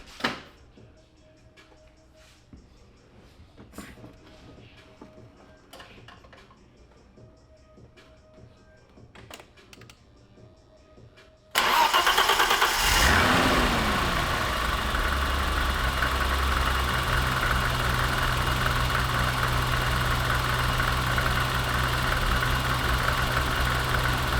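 BMW E30 with an M20 engine cranks and starts after a quiet stretch of faint clicks and taps, then settles into a loud, steady idle close by with a rough, vibrating tone.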